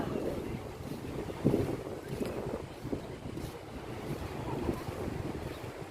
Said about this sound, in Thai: พึ่งได้มาเลาะเที่ยวทะเล